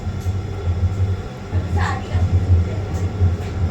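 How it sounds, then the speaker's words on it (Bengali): A Mumbai local train runs from Bandra toward Andheri, its low, steady rumble pulsing with the wheels and broken briefly by a sharp metallic squeal. "ফার্স্ট ট্রেন তো বান্দ্রা থেকে আন্দেরি যেছে"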